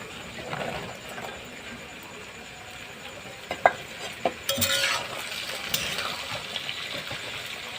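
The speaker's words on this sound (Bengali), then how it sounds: "এবার দেব সবজিগুলো, আলু, পটল আর একটু মিষ্টি কুমড়ো দিয়ে একসঙ্গে এগুলো ভেজে নেব" Onion frying with potato, pointed gourd and pumpkin in a pan, a soft continuous sizzle with a few sharp clinks and stirring scrapes from a utensil near the middle, fairly quiet and close.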